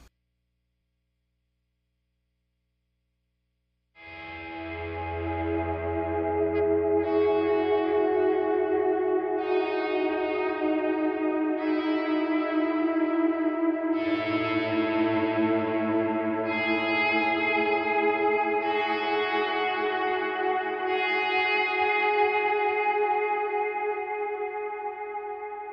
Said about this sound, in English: I have both delays on, the analog with the eighth note delay and dotted eighth delay